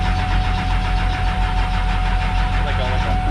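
A car engine cranking over on a high-torque gear-reduction starter, loud and steady, with a rapid rhythmic churn that carries through without catching.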